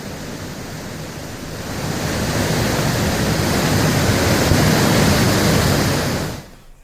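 A rain-swollen seasonal storm drain in flood roars with rushing water, a loud, steady broadband torrent close by that swells slightly and then cuts off abruptly.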